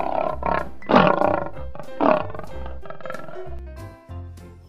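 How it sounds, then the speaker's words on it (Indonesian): A Bengal tiger roars in a series of deep, rumbling bursts, two especially loud, with lower grunting growls between them and no speech over the sound. "Harimau bengal."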